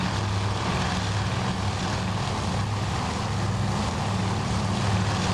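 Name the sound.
dive bomber aircraft formations in a carrier combat video game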